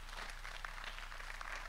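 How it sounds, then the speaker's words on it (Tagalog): Church congregation applauding after a sermon, a continuous dense patter of many hands clapping at moderate distance, fairly soft and unbroken, with no talk over it. "Ang hina naman ng palakpak eh."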